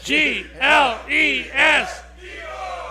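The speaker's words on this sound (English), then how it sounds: "How about an Eagle cheer real quick, everybody?" Sports-radio crowd in a pub spelling out an Eagles cheer in four loud, rhythmic shouted bursts, the group voices in unison, then fading into murmuring.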